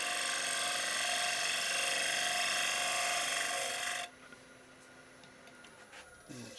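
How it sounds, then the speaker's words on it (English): Shear scraping a walnut platter on a wood lathe: a steady, loud, bright scraping whine for about four seconds that stops abruptly, leaving the quieter hum of the spinning lathe. "So we'll have to do the shear scraping part of it."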